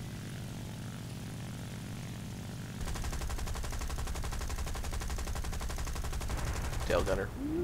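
Propeller aircraft engine drone in the combat flight game War Thunder, then a tail gunner's machine gun opens up partway through in a long, rapid, continuous burst over the engine noise, with a brief voice near the end.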